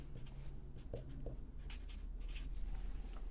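Marker or pen writing on a chart, a faint close scratching and squeaking of strokes over a low room hum, quiet and continuous, no talking.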